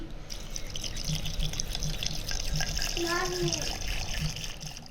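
Water is poured into a blender for raw mango sherbet with sugar, black salt, pepper and ice cubes, a steady trickling splash under a faint hum.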